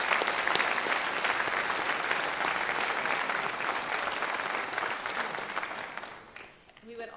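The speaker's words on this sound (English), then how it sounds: "so let's join us in another round of applause" Ceremony audience applauding newly inducted students at a lecture event, a broad sustained round of clapping that runs steadily before thinning out and fading near the end.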